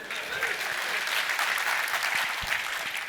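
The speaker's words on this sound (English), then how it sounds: "You guys should clap because Wi-Fi works." Steady applause from a conference keynote audience, dense clapping that holds evenly throughout at a moderate level.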